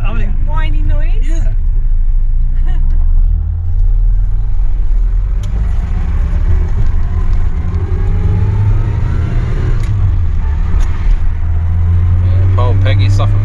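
An Austin Allegro 1300 carrying four people, its clutch slipping, gives a whiny, droning engine note with a deep rumble that rises and falls steadily throughout, while voices talk over it inside the cabin.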